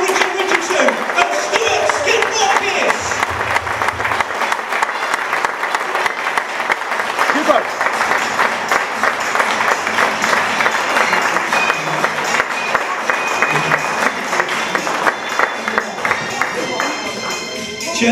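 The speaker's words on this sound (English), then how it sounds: "Please give a huge round of applause to Neil Richardson." A live show audience claps loudly to welcome guests on stage, sustained dense applause running throughout with some voices and cheers mixed in.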